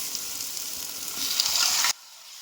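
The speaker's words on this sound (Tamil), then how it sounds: "பூண்டு ஒரு நிமிஷம் வதங்கின பிறகு நம்ம என்ன பண்ணுறோம், வெட்டி வச்சுருந்தா தக்காளியை போடுறோம்" Chopped tomatoes hit a hot pan of sautéing garlic, giving a close, loud crackling sizzle that swells for a moment and then cuts off abruptly, leaving only a faint background hiss.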